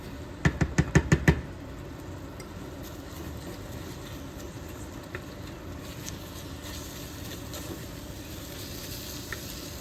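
Fried onions are stirred in hot oil for chicken biryani: a quick run of five loud knocks of a spoon on the pot opens, then a steady moderate sizzle runs throughout.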